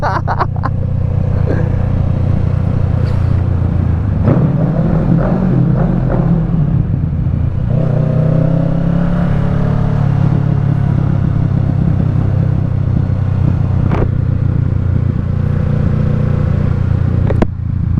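A 2022 Kawasaki Ninja 650 fitted with a Yoshimura exhaust, heard while riding: a steady, loud engine drone with a rev rise and pull midway, plus wind and road rumble throughout.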